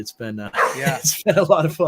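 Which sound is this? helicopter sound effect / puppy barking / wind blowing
puppy barking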